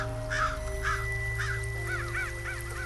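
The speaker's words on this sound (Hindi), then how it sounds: "दूर कहीं एक कौवा चीखा।" A bird calls several times in a row, short honking caws spaced through the recording at a moderate distance, over a steady low hum.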